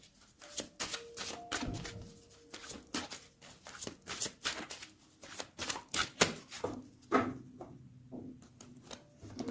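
Tarot cards being shuffled and cut by hand, a dense run of rapid papery riffles and flicks with sharp snaps, close and fairly quiet, continuing in bursts with no talk.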